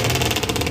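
A two-stroke motorcycle at a vintage motorcycle days event passes close by, a loud, steady buzzing engine drone that fills the brief moment.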